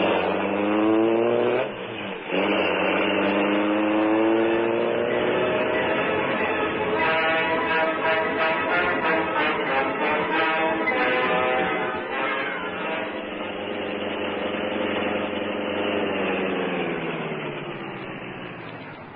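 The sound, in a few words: car engine driving sound effect in vintage radio drama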